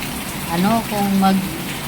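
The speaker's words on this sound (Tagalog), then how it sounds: "Ang gandang ulan sa inyong lahat." Steady rain falls outdoors as a constant hiss, with someone speaking over it throughout.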